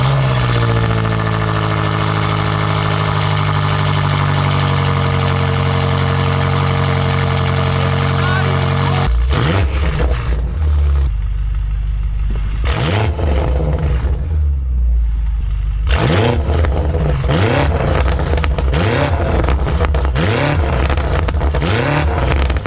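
A BMW M8 Competition with aftermarket downpipes idles with a deep, loud drone, then bursts into repeated sharp revs and crackling blips, close and aggressive, with someone talking over parts of it.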